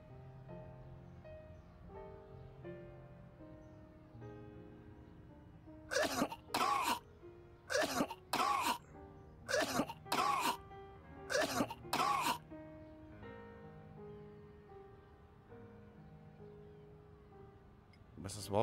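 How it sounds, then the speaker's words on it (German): A video game character coughs in a burst of six or seven harsh, close coughs in quick succession, loud against quieter background game music. "Das Husten war, glaube ich, schon länger."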